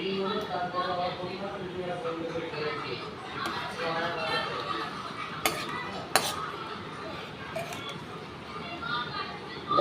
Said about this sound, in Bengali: আমি এবার এটাকে একটা প্লেটের মধ্যে সার্ভ করে দিচ্ছি